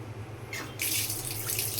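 A bathroom tap runs with a steady hiss of water, the flow growing stronger partway through, close by and without any talking.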